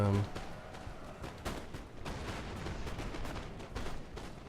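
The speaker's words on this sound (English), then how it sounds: "lovely firefight here" Napoleonic musket volleys rattle in the Napoleon: Total War battle at Syrian Ridge, a steady stream of distant cracks and pops with occasional heavier bursts, under a quiet narrating voice.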